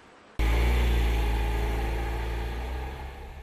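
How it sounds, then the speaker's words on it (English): Small Tata Nano engine mounted beneath the rear seat cuts in abruptly and runs hard with a loud, steady, droning rumble that eases slightly toward the end, heard alone without voices. "When the Nano's small engine is running hard, it can be quite noisy."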